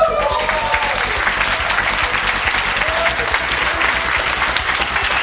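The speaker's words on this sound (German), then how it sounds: "Dein Applaus, Kai!" Sustained applause from a crowd at a science slam in Dresden as the winner is announced, steady dense clapping throughout with a few faint voices mixed in.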